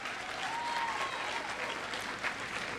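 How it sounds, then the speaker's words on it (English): Graduation audience at the 2019 Buffalo Arts Academy ceremony clapping, a dense, sustained roar of applause from a large crowd filling the whole stretch. "The reason why you're clapping"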